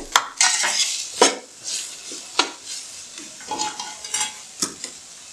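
Ginger and garlic fry in a pan for an aloo matar pulao, a soft sizzle under repeated sharp scrapes and clanks of a spoon stirring against the metal.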